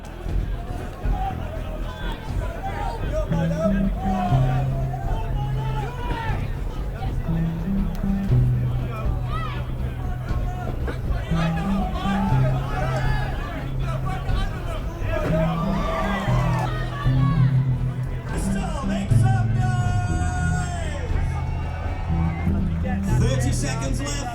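Loud crowd at an MMA fight, Team Red and Team Blue supporters cheering and shouting steadily through the whole stretch, a continuous dense roar with voices rising and falling throughout.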